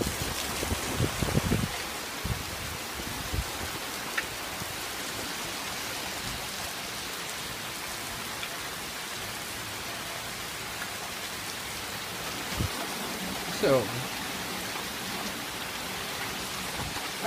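Steady rain hisses continuously on surfaces, with a few louder drips and knocks scattered through.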